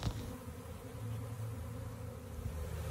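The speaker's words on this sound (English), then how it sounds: "So we've got a lot of bees in the box." A honeybee swarm buzzing around a box as bees crowd inside and fan their wings, a steady low drone of many bees, fairly faint but continuous throughout.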